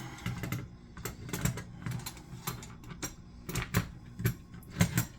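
A crescent wrench tightens a door trap adjustment, giving a series of close, sharp metallic clicks and ratcheting taps in irregular bursts, fairly quiet and with no voice over them.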